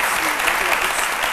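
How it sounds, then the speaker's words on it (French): A studio audience on a French-language midday television show claps loudly and evenly in a dense burst of applause. "Jean-Michel qu'on applaudit très fort."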